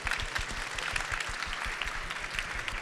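At a GeoAI conference in London, an audience gives another round of applause for a presentation: brisk, crowded clapping with sharp individual claps standing out, steady and fairly loud throughout.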